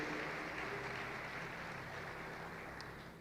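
A church congregation applauds during a sermon, a faint but steady patter of many hands clapping that fades a little toward the end.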